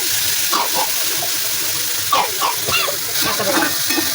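Ground green chili and garlic masala sizzling in hot oil in a home kitchen, a steady bright crackling hiss with soft stirring scrapes throughout.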